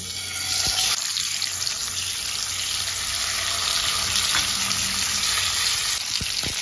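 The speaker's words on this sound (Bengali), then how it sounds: "এবার মাছগুলো দিয়ে দেবো।" Pomfret fish marinated with spices are laid into hot mustard oil, giving a loud steady hiss and sizzle that swells and holds, with a few small clinks and pops.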